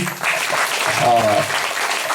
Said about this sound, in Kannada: ಮೊದಲು ನಾವು ಗಟ್ಟಿಯಾಗಿ ಚಪ್ಪಾಳೆ ಹೊಡೆದು